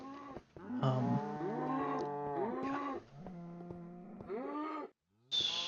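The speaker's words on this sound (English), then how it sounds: "And this is where I'm going to keep my cows." Several cattle moo in a video game, long harmonic calls overlapping and trailing one after another, fairly close and loud, with a short silent gap before a final call.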